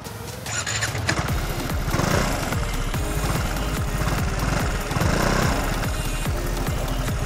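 An Aprilia Storm 125 scooter engine runs close by with a steady, throbbing low drone and rough pulsing, loud and continuous throughout with no talk.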